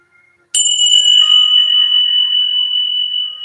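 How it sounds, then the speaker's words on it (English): A single bright strike of tingsha bells rings out sharply, then a clear metallic tone sustains and slowly fades. "Tingsha bells."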